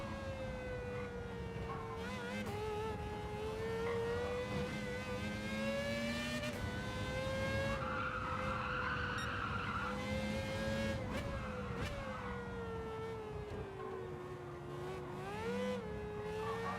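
A race car engine in Gran Turismo 7 holds a sustained whine that climbs and falls as the car works through gears and corners, with tire squeal and skidding mixed in, steady and continuous throughout.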